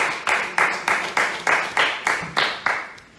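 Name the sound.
audience clapping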